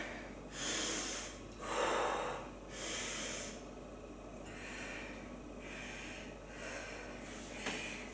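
Heavy panting breaths after a set of CrossFit jumping lunges, a series of loud rhythmic inhales and exhales close to the mic with no talk.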